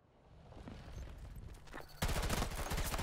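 AM40 assault rifle fire in Battlefield 2042, first a muffled stretch of distant battle noise, then a loud, close burst of rapid automatic shots.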